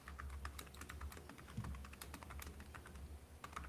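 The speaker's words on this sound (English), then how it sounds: "Joe's typing." Rapid, steady keystrokes on a computer keyboard tap along at low volume over a faint background hum, with no one talking.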